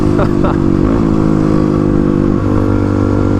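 A Kawasaki KLX351 dual-sport motorcycle rated at 35 hp accelerates hard, its engine droning loud and close with rising and shifting pitch, a steady rough roar filling the whole stretch.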